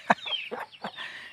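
Several chickens in a rural village give a quick run of short clucks close by, with higher bird chirps woven in behind them.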